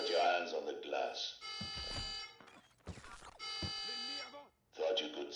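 A blaring alarm buzzer in the Call of Duty Black Ops 6 campaign, loud repeated tonal blasts with short gaps, layered with talk and game effects.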